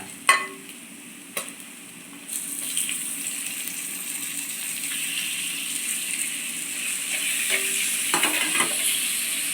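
Sliced onions sauté in a pan for a chickpea curry, a steady close sizzle with occasional sharp clinks of a spoon against the pan and bursts of stirring over the continuous frying hiss.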